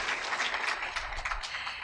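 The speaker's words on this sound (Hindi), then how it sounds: "ज़ोरदार तालियां बजाइए" Audience applause at a campus poetry event, close and lively, an uneven crackle of many hands clapping with small surges throughout.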